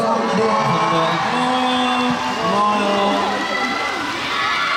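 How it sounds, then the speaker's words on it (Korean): A large crowd of more than ten thousand at a charity concert in Seoul cheers and screams loudly and continuously, a dense roar of voices with no pause. "다시 한번 큰 박수 부탁드릴게요"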